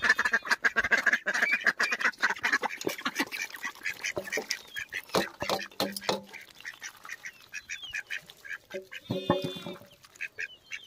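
A flock of ducks quacks loudly and close by in dense, overlapping bursts, with a few honking calls in the mix.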